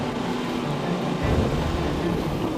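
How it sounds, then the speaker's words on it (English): A race powerboat at a qualifying pole shootout in Jeddah roars as its propeller lifts out of the water, a loud sustained engine and water rush with a surge partway through. "That sound, you can hear it, that's the prop coming out of the water."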